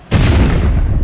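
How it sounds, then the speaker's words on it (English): A loud, deep explosion in the video game LEGO City Undercover bursts suddenly and rumbles on steadily for about a second, filling the sound with heavy low boom. "you might want to get away from this explosion"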